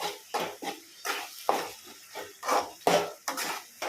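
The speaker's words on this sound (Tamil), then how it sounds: "நல்லா கரண்டியாலே கிண்டி தக்காளியை நல்லா மயிச்சுக்கணும்." A ladle scrapes and knocks rhythmically in a pan while tomatoes are stirred and mashed for a coconut and carrot tomato thokku, a steady series of close, loud clattering strokes.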